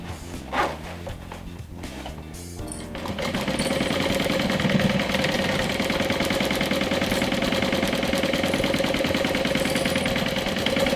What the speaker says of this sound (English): So I'm sewing around with a 1/4 inch seam allowance.